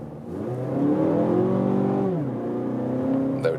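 A car engine revs up loudly as it accelerates, pitch climbing then dropping at a gear change before rising again, close and clear.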